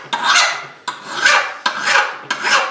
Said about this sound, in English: We're gonna file and file and file.